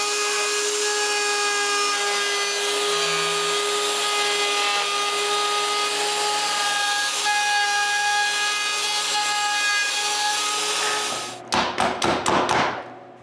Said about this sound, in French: J'utilise mon pantorouteur pour couper les tenons au bout des morceaux.